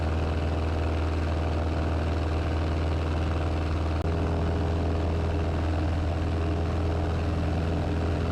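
A small airplane's propeller engine drones steadily in flight over the Yellowstone backcountry near Cody, a loud, constant hum heard from inside the cabin with no talk.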